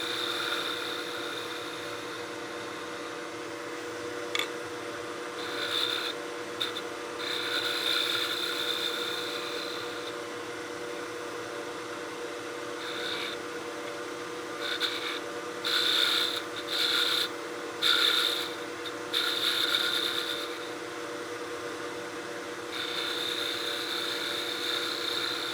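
A 3/8 spindle gouge cuts wood on a lathe while turning small flat-backed buttons for a German smoker, a steady motor whine under intermittent raspy scraping bursts as the tool engages.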